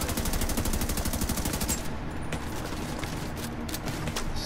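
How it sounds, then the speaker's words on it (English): Rapid automatic gunfire in the video game Tom Clancy's The Division 2, loud and close at first, then fading into scattered shots and ambient noise. "Stop shooting at me!"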